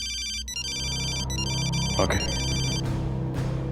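A telephone ringtone sounds in a repeating electronic ring pattern, several bursts in succession, with low music underneath and a brief spoken word near the end.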